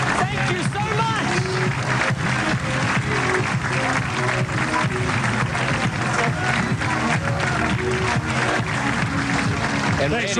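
Crowd applauding and cheering at a professional bowling tournament, a PBA Long Island Classic in 2009, as the winner clinches the title. The dense, loud, steady clapping and cheers fill the whole stretch, close and continuous.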